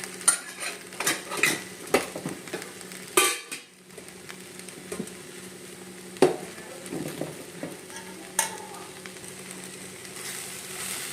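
Spices with garam masala, chili powder and coriander fry dry in a pan without oil, with repeated scraping and stirring clinks of a utensil and a soft sizzle, close and alone.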